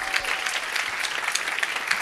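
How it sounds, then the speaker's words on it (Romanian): A stand-up comedy crowd applauds a comedian, continuous fairly close clapping with a few sharper individual claps standing out, no voice over it. "Haideți să mai aplaudăm o dată pe Elena Voineac"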